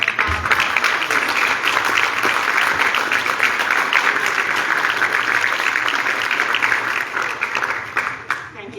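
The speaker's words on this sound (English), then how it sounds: "give your parents and your lecturers a well-deserved round of applause" Graduation ceremony crowd giving sustained applause, dense, even clapping from a large hall audience that holds steady for several seconds before tapering off at the end.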